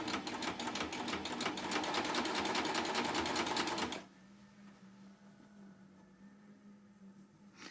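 A Baby Lock coverstitch machine hems fabric with a plain hemmer foot, running with a fast, even stitching rattle for about four seconds, then stopping to a quiet hum.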